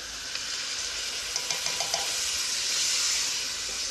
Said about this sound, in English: Time to add some tomatoes. I'm using tin tomatoes for this recipe.